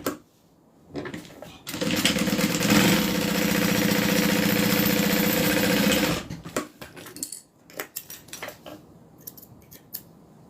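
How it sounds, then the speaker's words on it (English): A sewing machine top stitches a bag in one loud, steady, close run of about four seconds, stopping abruptly, then a few scattered handling clicks and rustles follow. "Then we're going to open it up and do a top stitch."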